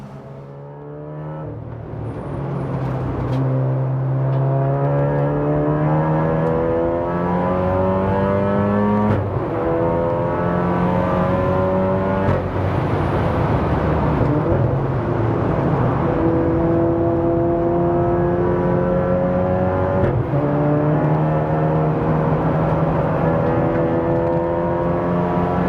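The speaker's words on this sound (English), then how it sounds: "let's hop in the car and attack Spa for the very first time in my Mark 7 Golf R" A 500 BHP big-turbo Mark 7 VW Golf R lapping Spa circuit, heard from inside: the engine revs up hard through repeated gear changes, rising pitch then dropping at each shift, loud and continuous for the whole run.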